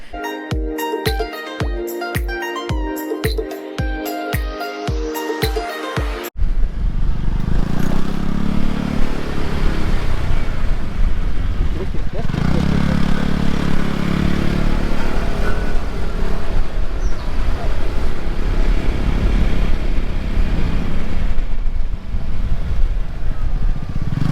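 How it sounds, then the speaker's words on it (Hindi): Scooters and motorbikes ride along a hill road near Nainital. A few seconds of music give way to a loud, steady engine drone and road noise that carries on throughout. "आप देख सकते हैं सब वहाँ पे जा रहे हैं स्कूटर्स पे"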